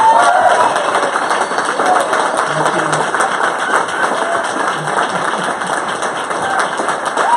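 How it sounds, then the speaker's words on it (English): A live audience at a Pitch Talks event in Kansas City gives a sustained round of applause, dense continuous clapping with some cheering, fading slightly toward the end. "One more round of applause for my time."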